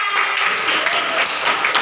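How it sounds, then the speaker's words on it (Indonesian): Schoolchildren in a classroom clap their hands together in a short, loud, steady burst of applause. "Ya, kasih tepuk tangan."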